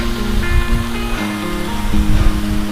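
A waterfall flows straight down from the mountain beside the Anjani Mahadev Shiva temple, a loud, continuous rushing roar with faint tonal sounds in the background.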